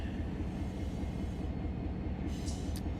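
Locomotives haul a supply train in the Run 8 rail simulator, a steady, rumbling drone of engines and rolling wheels with a faint rhythmic clatter, continuous and fairly quiet, with a brief high squeal near the end.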